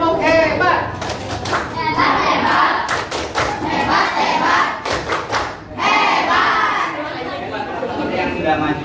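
Schoolchildren in an Indonesian classroom clap a rhythmic cheer in loud bursts of sharp, repeated claps, with chatter and voices throughout.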